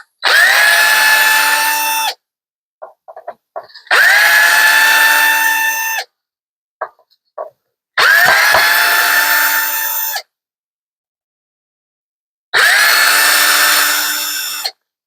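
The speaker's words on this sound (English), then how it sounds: "All right, let's pull this neck off." A power drill unscrewing the neck of an Aria bass guitar runs in four loud, close bursts of steady whine, each about two seconds long. Short clicks and handling noises fill the gaps between them.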